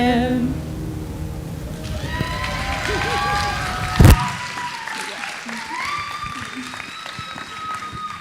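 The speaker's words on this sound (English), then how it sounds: "did we give them a round of applause?" At a Hanukkah talent show, an audience applauds after a dreidel song ends, with a sharp bang partway through, then lighter clapping and cheering under voices.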